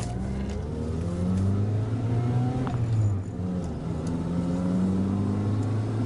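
A 1998 Honda Civic accelerating, its engine note climbing through the gears in a steady, close, continuous drone heard from inside the car.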